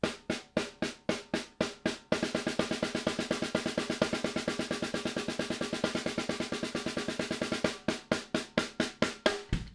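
Drum singles played as one bar of evenly spaced eighth-note strokes, then three bars of rapid sixteenth-note strokes, before returning to slower eighth notes; crisp, close, alone without talk.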